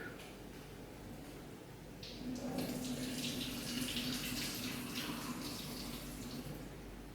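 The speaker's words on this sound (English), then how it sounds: "Now I want to tip out some of the water." After a quiet moment, a steady stream of water gushes out of a pot while making natto and splashes continuously for several seconds, fairly close and loud.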